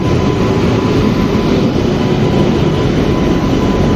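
The SMUT Bengaluru–Murudeshwar Express arriving at a platform, a loud, continuous rail roar with steady rumbling and a faint clatter of wagons that fills the scene without a break.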